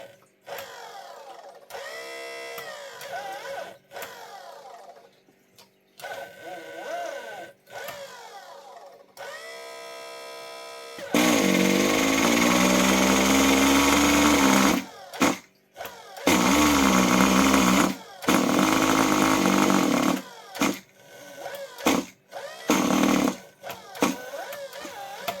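Kyosho Mantis RC car nitro engine cranked with a starter, with a rising whine and buzz in repeated bursts separated by short pauses, loud and close, after quieter intermittent mechanical sounds.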